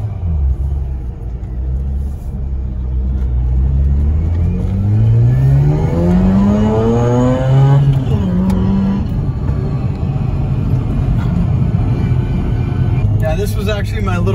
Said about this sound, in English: rotary engine, this thing's so freaking cool